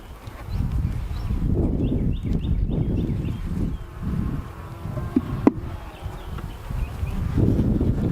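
Honey bees drone steadily around an open backyard hive, a close, dense buzzing that swells and dips, with a few brief wooden knocks from frames being moved.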